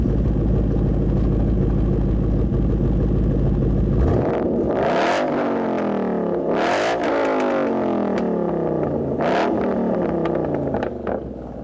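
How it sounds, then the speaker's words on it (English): A 2012 Ford Mustang Boss 302 engine idles with a deep rumble, then revs hard several times, each rev climbing sharply and falling back, with crisp exhaust pops. "Let's hear what it sounds like."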